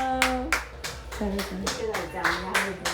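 Several people clapping at home to welcome a baby boy, a few loose bursts of hand claps with children and adults talking and cooing between and over them.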